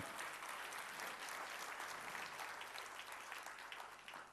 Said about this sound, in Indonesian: Tepuk tangannya dahsyat.